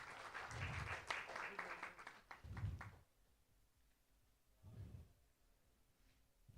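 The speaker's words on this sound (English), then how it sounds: "Big round of applause." Applause for a session moderator at a conference, clapping mixed with voices for about three seconds before it fades, then a quieter room with brief talk.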